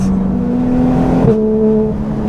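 A Porsche GT3 converted into a road-going RSR with a full intake revs hard in the 4,000–6,000 rpm range, a loud, steady harmonic engine drone that shifts pitch sharply partway through, close and continuous with no voices.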